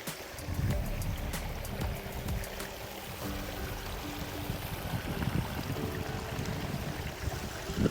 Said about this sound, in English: Really, really cute little river here as well.